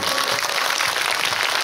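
Audience applause at a film festival Q&A screening at the Busan International Film Festival, a dense, steady wash of many hands clapping that stays loud and even throughout, with no voices over it.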